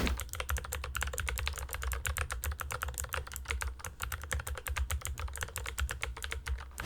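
Steady fast typing on clicky Gateron mechanical keyboard switches, with dense crisp poppy clicks in a continuous close rhythm and no voices.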